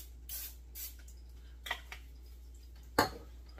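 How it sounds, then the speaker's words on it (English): Pam cooking spray misted onto a pan in a few short hissing bursts, close and fairly quiet, with one sharper final spritz over a low steady hum. "Make sure you put a little bit of spray down."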